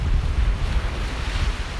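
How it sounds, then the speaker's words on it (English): Wind buffets the microphone on a windy beach, a steady loud low rumble with surf noise beneath it throughout, and no one speaking. "It is a windy day, so you're going to hear extra noise from that."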